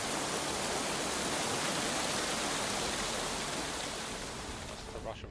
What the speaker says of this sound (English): That's the rush of water.